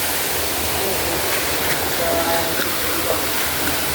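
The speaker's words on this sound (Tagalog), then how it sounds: "Ito pala yung falls." Steady, broadband rush of the Pagsanjan Falls waterfall, continuous and fairly distant with no clear voices over it.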